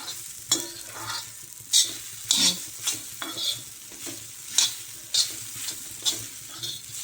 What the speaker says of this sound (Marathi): आता ही खिचडी परतून घेते छानपैकी